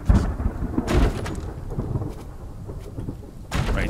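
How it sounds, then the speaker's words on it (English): A thunderstorm in the Outlaws of the Old West video game: steady rain hisses throughout while loud thunder rumbles and cracks roll in and out, with no talking. "Now I gotta make it so you can hear me with all this thunder."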